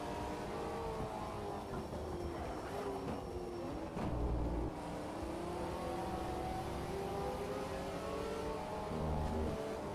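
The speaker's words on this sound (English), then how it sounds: "Car sounds pretty good though." A car engine in Shift 2 Unleashed revs steadily under load, with rising and falling pitch through gear changes and a brief louder burst midway, with no voices.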